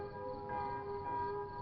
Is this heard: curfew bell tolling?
yes